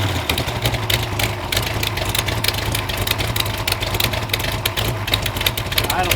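A Mopar LA small-block V8 idles with a steady low rumble and slight lope, continuous and close, with faint voices underneath.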